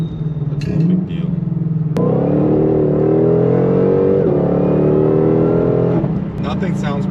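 A Shelby GT500's 5.2 liter V8 revs loudly and close by, a deep rumbling idle that sharply climbs into a sustained, rising roar before dropping back, with a voice briefly talking at the start and end.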